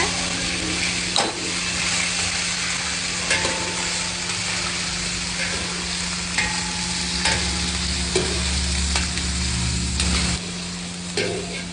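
Shallots with ginger and garlic paste sautéing in hot oil for ayam rendang, a continuous loud sizzle broken by occasional stirring scrapes and light knocks on the pan.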